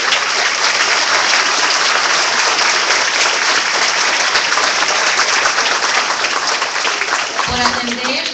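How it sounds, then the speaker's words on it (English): A crowd at a rally against an immigrant prison in Joliet, Illinois claps loudly and continuously in a thick, rain-like roar, with a brief tonal sound near the end. "Give yourself a hand of applause for taking time to attend this event."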